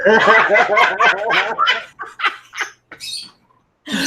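Pet birds chirp and squawk in a dense run of bright calls that thins into scattered short chirps with brief pauses, fairly close and loud.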